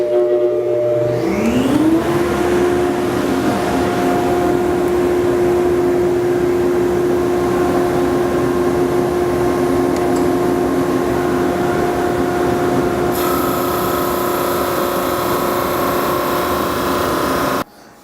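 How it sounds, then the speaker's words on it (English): A drum sander spins up with a rising whine, then holds a steady loud hum while wooden cutting-board panels are smoothed flat, pitch shifting slightly under load before cutting off abruptly at the end. "I just want to clean them up just a little bit here at the drum sander to get those seams perfect"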